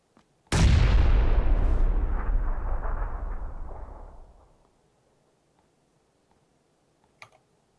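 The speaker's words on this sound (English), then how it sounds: "Oh god, nade on me!" A grenade detonates in a video game with a sudden loud boom, followed by a long rumbling decay lasting about four seconds before fading to near silence, with a small click afterward.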